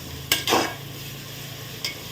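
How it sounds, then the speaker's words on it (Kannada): Ginger garlic paste and onion fry on a low flame in oil for chicken biryani, a faint steady sizzle broken by a few sharp metallic clinks of a spoon stirring the pan. "ಶುಂಠಿ ಬೆಳ್ಳುಳ್ಳಿ ಪೇಸ್ಟು ಮತ್ತು ಈರುಳ್ಳಿ ಚೆನ್ನಾಗಿ ಎಣ್ಣೆಯಲ್ಲಿ ಫ್ರೈ ಆಗಬೇಕು"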